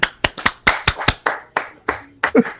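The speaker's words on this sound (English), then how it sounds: "Clap it up, Mr. G Scott." A few people on a podcast clap to welcome a guest: a dozen sharp, close claps in an uneven rhythm, fading into scattered claps with a brief voice near the end.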